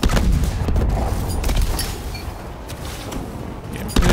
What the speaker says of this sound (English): I'm just literally throwing grenades everywhere.